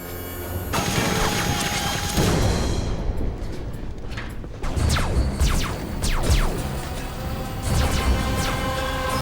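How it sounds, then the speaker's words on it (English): Clanking metal and whirring machinery from the Terminator 3 film soundtrack, a dense, loud mechanical din with grinding sweeps and sharp metallic hits, continuing without pause and with no music or speech. "the score steps back to let the sound design, clanking metal and whirring machinery take over"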